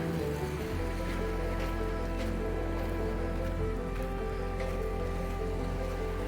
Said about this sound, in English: It's raining over there,